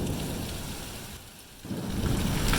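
A heavy storm downpour pours down in the streets of Oaxaca during the rainy season, a dense, loud hiss of rain that dips briefly in the middle and then swells again with a deep rumble.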